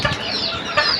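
Desi roosters in a poultry yard cluck and rustle nearby, a continuous muddled chatter of birds with a brief flutter near the end.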